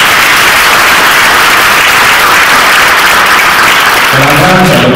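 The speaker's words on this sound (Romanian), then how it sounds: "Aplauze!" A theatre audience at the 2019 Mihai Codreanu national drama festival in Bacău applauds loudly and continuously, and a voice begins speaking near the end.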